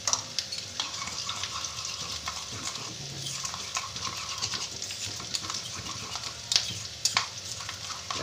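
Okra being tossed and mixed with chili powder, garam masala, turmeric and salt gives soft, irregular rustling and stirring scrapes at low volume, with occasional sharper clicks and no talk.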